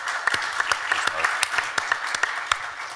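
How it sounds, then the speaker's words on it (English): At a West Coast business conference, an audience gives a short round of applause for a panelist, with a handful of distinct claps standing out over a steady wash of clapping. "Please give Lance a round of applause."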